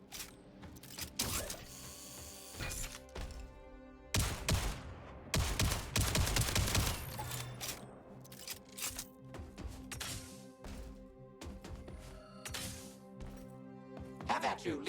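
Gunfire in the sci-fi space shooter Jump Ship, with dense bursts of shots over a busy mechanical game soundscape. The heaviest volleys come around the middle, and voice chatter is mixed in.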